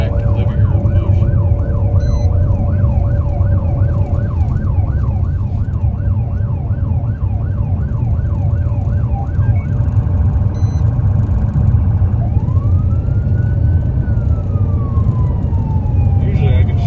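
A Tombstone marshal's patrol car siren blares loud and close, cycling rapidly in a yelp before shifting into a slower rising-and-falling wail. A steady engine and road rumble runs beneath it throughout.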